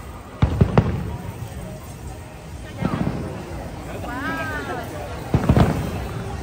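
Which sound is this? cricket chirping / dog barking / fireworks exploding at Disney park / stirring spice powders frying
fireworks exploding at Disney park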